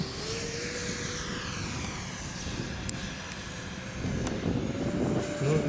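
A radio-controlled F-104 Starfighter model airplane flies past, a continuous engine whine and roar with a steady tone that shifts in pitch, growing louder and closer near the end with no talking.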